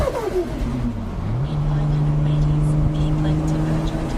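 A 1000hp Nissan R32 GT-R with a Motive DVD exhaust roars in Forza Horizon 3. Its engine pitch drops sharply, then holds a loud, steady drone.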